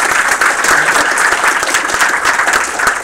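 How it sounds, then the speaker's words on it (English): Dense, steady applause from a live audience at a game studio build review and job fair, sustained clapping filling the room without pause for several seconds. "please give him another round of applause"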